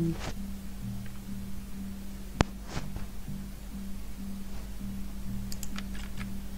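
Sparse, sharp clicks from a computer mouse and keyboard during a League of Legends match, a few isolated taps spread over a quiet, steady background hum.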